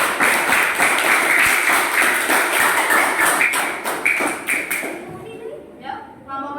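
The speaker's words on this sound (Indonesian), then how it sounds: "Silakan berikan tepuk tangan untuk kelompok" A classroom group claps for the second group after its presentation, a dense burst of many hands clapping loudly and steadily for about five seconds before fading into quieter room noise.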